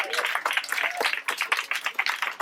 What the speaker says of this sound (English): I want to hear a round of applause for anyone who's ever farted during sex.